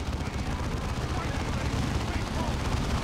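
Gunfire in the Dawn of War 2 strategy game during co-op play, a dense continuous rattle of shots and explosions filling the whole moment without a break.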